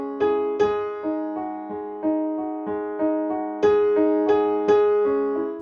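Solo piano playing the Moonlight Sonata's steady triplet figure, each evenly spaced note ringing over sustained low bass, with firmer accented chords toward the end; close and clear, no voices.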